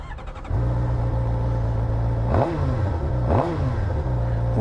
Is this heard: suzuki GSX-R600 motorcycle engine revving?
yes